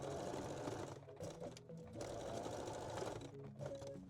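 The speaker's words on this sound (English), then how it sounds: "I can also backstitch the opening just with the straight stitch." A sewing machine backstitches a straight stitch to close an opening in a reversible bikini bottom, whirring close and steady with a couple of brief pauses and changes in pace.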